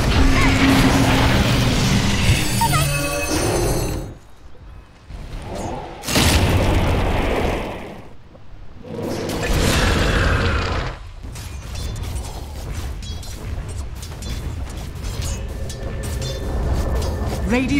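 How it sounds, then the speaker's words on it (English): Dense, loud combat from a Dota 2 match as Radiant's bottom tower comes under attack: heavy booms, crashes and mechanical clatter run almost continuously, with brief quieter gaps between bursts. "Radiant's bottom tower is under attack."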